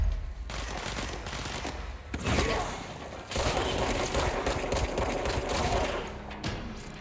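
Continuous rapid gunfire in the video game Control, sustained machine-gun bursts with heavy thuds, briefly dipping near the two- and three-second marks before hammering on loud and close to the end.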